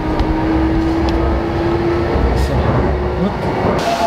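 The Skyliner train to the airport in Japan rumbles steadily from inside the carriage, a constant low roar with a faint tonal whine, close and continuous.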